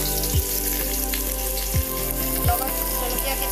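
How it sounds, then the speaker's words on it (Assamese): Garlic sizzles in the hot oil left from frying fish, a loud continuous frying hiss with a few soft thumps as pieces drop in, and no voices. "মাছবোৰৰ তেলখিনিতে আমি নহৰু দিছোঁ"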